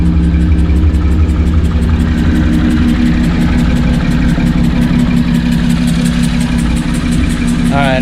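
A car engine idles loudly and steadily with a persistent rhythmic ticking noise running through it.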